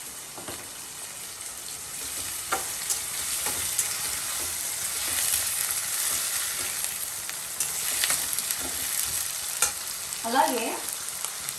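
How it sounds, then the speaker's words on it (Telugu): Onions frying with salt in oil in a pan for challa pindi, a steady broadband sizzle with scraping stirs throughout, close and moderately loud, no speech. "కొంచెం సాల్ట్ వేసుకుంటే మనకి ఆనియన్స్ అన్నది త్వరగా ఫ్రై అవుతుంది"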